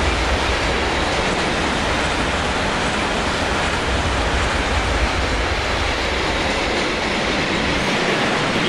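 A BR 151 electric freight locomotive in Train Simulator 2016 rattles past, producing a loud, steady roar of rolling wheels and rail clatter that runs continuously throughout with no voices.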